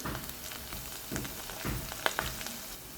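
Tomatoes and ginger-garlic paste frying in a pan for veg dum biryani, a soft crackling sizzle with a few stirring scrapes and sharper pops near the end, close and fairly quiet.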